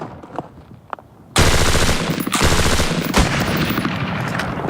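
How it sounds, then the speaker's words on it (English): An IAR automatic rifle fires in full auto, a loud sustained burst of rapid shots that starts abruptly after a quieter moment and continues with brief gaps to the end. "Now, let's unleash the IAR in full auto."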